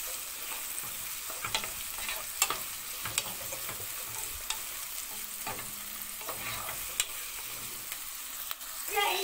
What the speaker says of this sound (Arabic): لازم طبعا تديهم كلهم تشويحة الاول مع بعض